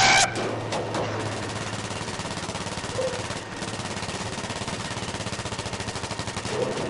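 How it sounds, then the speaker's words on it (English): Enemy machine gun in the Battlefield V video game firing in a long, rapid, steady burst, loud and sustained across the whole stretch, with a brief sharper blast at the start. "it's a guy with a machine gun"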